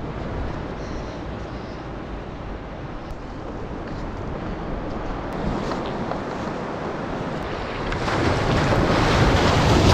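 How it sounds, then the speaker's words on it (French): Small ocean waves washing at a beach on the Portuguese coast, a steady, loud rush of surf mixed with heavy wind buffeting the microphone, swelling slightly toward the end, with no voices. "Bon cool, on a de la chance, il y a des petites vagues."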